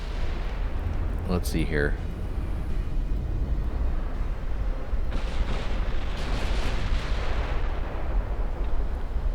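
Torpedo hits and naval gunfire in the naval warfare game Ultimate Admiral Dreadnoughts, a constant heavy low rumble of distant booming explosions, with someone briefly talking over it.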